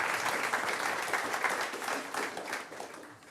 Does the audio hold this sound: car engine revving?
no